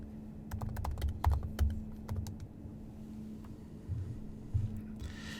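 Bursts of keystrokes on a computer keyboard as a username and password are entered, close and crisp, in quick irregular clusters with short pauses and a faint steady hum underneath.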